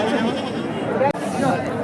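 Goats bleat amid the crowd noise of the Peth Vadgaon goat market, with a few wavering calls over a constant busy murmur of people and animals.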